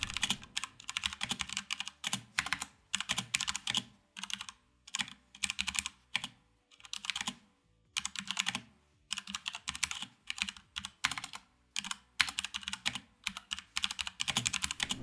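Crisp, clacky presses on an ASUS ROG mechanical keyboard come in rapid bursts of typing, separated by short pauses, close and clear with no talking.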